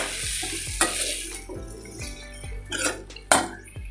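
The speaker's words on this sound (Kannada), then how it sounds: "ಕೊತ್ತಂಬರಿನೂ ಸ್ವಲ್ಪ ಫ್ರೈ ಆಗಿಬಿಡುತ್ತೆ" Coriander leaves fry in a pan for a homemade country-chicken curry, giving a steady close sizzle broken by several sharp clinks and scrapes of a utensil stirring against the metal pan.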